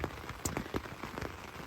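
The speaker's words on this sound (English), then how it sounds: "So this isn't even the heaviest of the rain." Heavy rain drums steadily on a camping tent, a dense close patter with scattered louder drops hitting the fabric, no voices over it.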